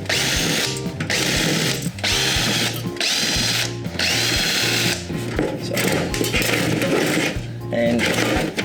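A power drill undoes the screws at the top of a computer case being pulled apart for e-waste, whirring in repeated short bursts with brief pauses between them.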